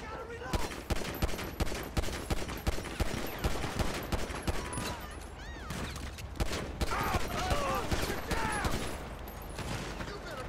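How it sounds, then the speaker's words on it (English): Sustained video-game gunfire as police open fire on the player, dense bursts of rapid shots and volleys running throughout, loud and close with a voice talking over parts of it. "Why are you guys shooting me?"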